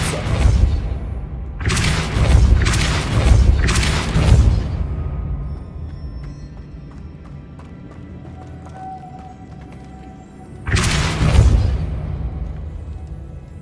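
Depulso spell blasts in the Hogwarts Legacy video game, a series of loud, booming whooshes, four in quick succession and then one more after a quieter pause, with a soft game ambience in between.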